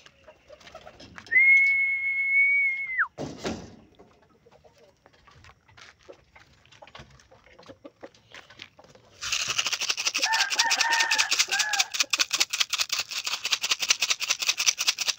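Pigeons settling into a new mini loft coo and flutter close by, with a brief tonal squeak early on and a steady rhythmic mechanical rattle and chirping later, fairly faint overall.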